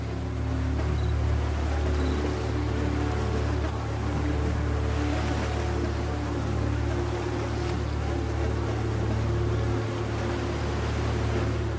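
Arctic Ocean waves and sea breeze on the shore make a steady, continuous roar with a low rumble underneath, unbroken and even in loudness throughout.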